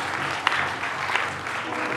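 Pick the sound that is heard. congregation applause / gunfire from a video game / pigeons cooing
congregation applause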